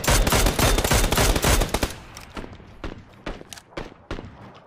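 Automatic gunfire in the battle royale game PUBG, a loud dense burst of rapid shots followed by scattered single cracks and footsteps.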